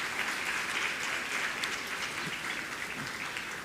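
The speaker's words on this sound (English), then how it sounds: "Kindly give them a round of applause." Graduation ceremony audience at a primary school clapping for honoured students, a steady, even wash of many hands applauding at a moderate distance, fairly faint, with no talk over it.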